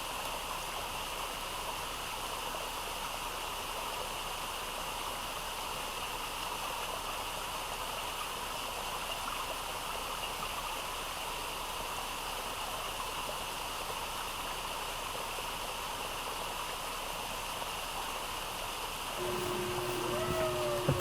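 A small waterfall and stream run steadily beside a roadside rest stop on a motorcycle camping loop in Quezon, a constant even rush of water with no talk. A faint brief tone appears near the end.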